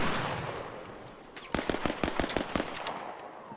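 Pistol shots in a first-person shooter video game ring out as a quick run of about eight sharp cracks after a breathy, noisy lead-in, fairly loud and close with no talk over them.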